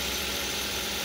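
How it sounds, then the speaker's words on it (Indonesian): The engine fan belt on a first-generation Toyota Avanza runs with a faint, steady whirring hum, heard briefly on its own. "Ini itu bunyi fan bellnya ya."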